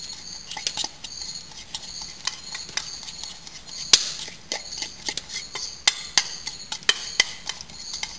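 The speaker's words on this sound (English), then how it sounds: "And you just stir the mixture together." Egg yolk and coffee grounds stirred together in a cup with a small spoon for egg coffee, giving a steady run of light clinks and scrapes close by, with a few sharper taps against the rim.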